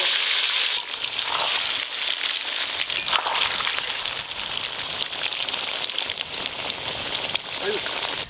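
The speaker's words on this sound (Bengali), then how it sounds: "এবার আলুগুলো ভেজে নেবো" Potatoes fry in hot oil for chicken biryani, giving a loud, dense, crackling sizzle that runs steadily from start to finish.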